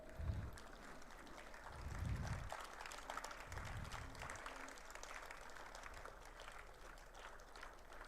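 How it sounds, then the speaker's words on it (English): Students at an inauguration ceremony for a Start-up & Innovation Cell and Research Cell giving a round of applause, a soft, distant patter of many hands clapping steadily under low rumbling room noise. "I request all the students to stand and give them a huge round of applause."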